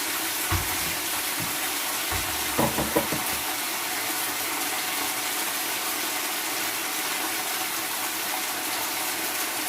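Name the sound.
sauce added to sizzling stir fry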